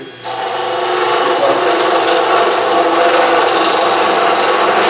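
A skew chisel making an inside cut on a piece of wood spinning on a lathe, a loud, continuous close-up scraping hiss that starts abruptly and holds steady, with no voices over it.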